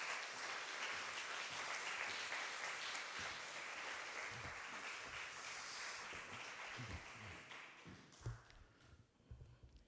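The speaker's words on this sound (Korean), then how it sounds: "목사님 나오실 때에 박수로 환영하겠습니다" A church congregation at a Wednesday evening worship service claps to welcome a pastor to the pulpit, steady dense applause filling the room before thinning out into a few scattered claps near the end.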